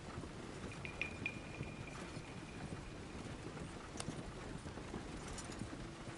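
Steady clip-clop of horse hooves plodding along in the video game Red Dead Redemption 2, over a soft outdoor ambience, with a faint tone and a few light clinks, no talking.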